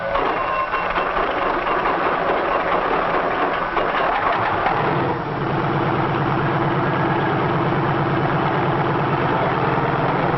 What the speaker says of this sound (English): A self-starter starts the engine, and after a careful warm-up, we're ready to take to the air.